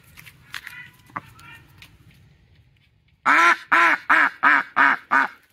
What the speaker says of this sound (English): And our ducks are over here helping out.